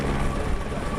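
Helicopter flying during a film shoot for a train action movie, a steady close rotor and engine roar filling the clip without pause.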